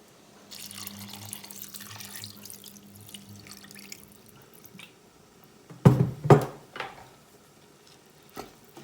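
Water pours into a rice cooker pot while chicken rice is made at home, a fairly soft, steady stream that gives way to louder splashes and clunks of the pot, then a few faint knocks.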